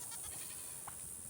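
A goat on a farm gives one short, faint bleat partway through, heard at a distance over a steady background hiss.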